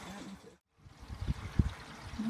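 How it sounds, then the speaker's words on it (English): Water flows and trickles into a newly fitted water tank, a faint gurgling rush with a brief silent gap and soft knocks, quiet and close. "I can hear the sound of the water coming through."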